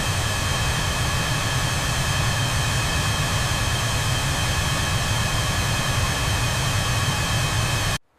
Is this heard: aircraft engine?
yes